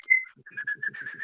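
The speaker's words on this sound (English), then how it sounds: "That was a shit whistle." A person whistles to call a dog: a short, sharp note, then a rising series of quick, breathy whistled pulses, close and fairly loud.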